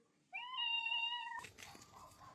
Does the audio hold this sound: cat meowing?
yes